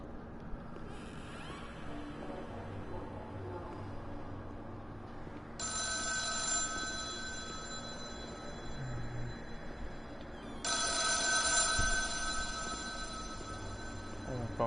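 A telephone rings in the horror game The Town of Light, its electronic bell sounding in two or three long bursts over a low ambient drone, with no one speaking.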